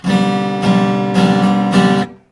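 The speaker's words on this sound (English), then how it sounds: "all your strings are out of tune" Loud strummed acoustic or electric guitar chords with all strings out of tune, four strokes in a steady rhythm with a slightly sour, clashing ring, then a quick fade.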